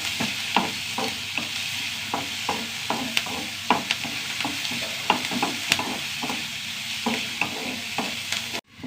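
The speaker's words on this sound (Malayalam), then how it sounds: "സവാള മുളക് നന്നായി വഴണ്ട് വരണം" Onions and chillies sautéing in a pan until browned, a constant close sizzle broken by regular scraping strokes of a spoon stirring the pan, ending with a sudden knock.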